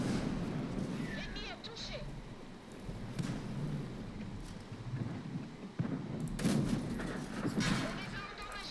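Muffled gunfire booms and crackles in scattered bursts over a constant low rumble, with a louder cluster of shots near the end, in a tank game with an M4A1 FL10.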